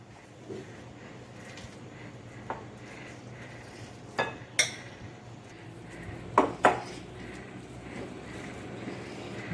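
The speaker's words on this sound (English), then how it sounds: "We'll mix it well so that it binds with our rajma." A spoon works through coarsely mashed rajma in a bowl with scattered clinks and scrapes against the bowl over a low steady background, a few sharper knocks standing out near the middle and toward the end.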